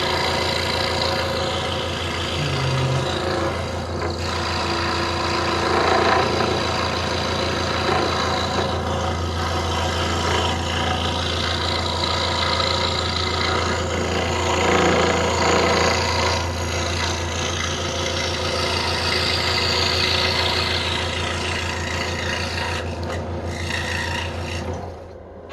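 A scroll saw fitted with a Flying Dutchman number 5 reverse tooth blade cuts a small wooden tree-of-life sign, a steady rasping buzz over a constant motor hum, running continuously and fairly close.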